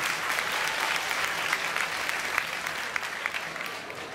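A convention crowd at a Game of Thrones panel during Paris Manga claps steadily throughout, a continuous wash of applause with a few sharper individual claps, fairly close.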